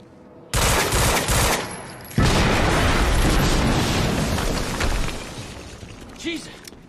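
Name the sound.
explosion and gunfire in the video game Quantum Break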